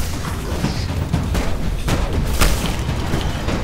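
Gunfire in Destiny on PS4 rings out as scattered, fairly loud shots over a dense bed of battle noise. Sharp reports land irregularly, with a stronger crack near the middle.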